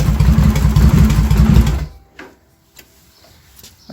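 A 2007 Victory Vegas motorcycle engine idles low with a steady, loud rumble and rapid pulsing, then cuts out abruptly about halfway through, leaving near silence broken by a few faint clicks.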